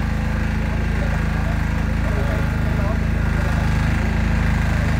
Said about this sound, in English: The grinder itself, from its design, enables a stable grinding